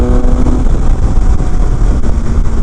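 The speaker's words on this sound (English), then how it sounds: "definitely the fastest bike I've ever ridden as far as power" A 2019 Triumph Speed Triple RS motorcycle engine pulls hard at highway speed, a loud, continuous close-up roar mixed with heavy wind buffeting throughout.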